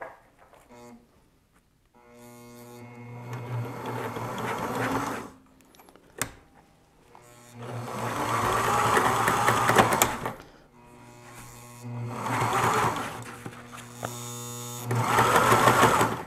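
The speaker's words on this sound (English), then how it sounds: "It's a fine sewing machine" A home sewing machine stitches in three loud mechanical runs, each a steady rapid whirring hum, separated by short pauses with faint handling noises between bursts.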